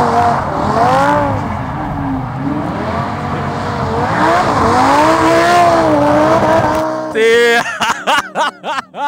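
A Lamborghini drifting at full throttle, its engine loud and close with rising and falling revs through sustained wheel slip, then cutting to short, choppy bursts near the end.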